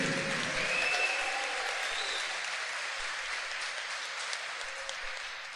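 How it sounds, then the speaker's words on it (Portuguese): A church congregation breaks into sustained applause, a dense wash of clapping from many hands that holds steady and then slowly fades, with a few faint voices rising above it. "Dê uma salva de palmas para ele, igreja."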